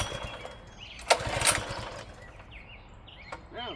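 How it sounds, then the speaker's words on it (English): An old Honda engine on a mini bike is pulled over and catches, giving a brief burst of rough engine noise before settling into a lower uneven run, with faint birdsong in the background. "it's an old Honda motor. She'll fire right up."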